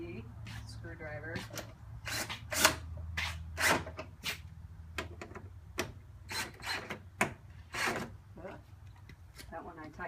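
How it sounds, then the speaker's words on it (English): A screwdriver tightens the screws on an M7 Speed Spec-D headlight during installation, making close, irregular clicks and ratcheting scrapes. Someone talks quietly underneath. "now I'm going to tighten them with the screwdriver."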